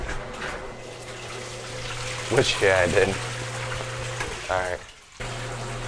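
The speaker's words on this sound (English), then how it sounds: "you can see the water level of the tub draining how it's supposed to" Water drains from the tub of a Whirlpool washing machine through its drain hose after a kink is removed, a steady rushing flow with a low pump hum running throughout, and someone speaks briefly over it.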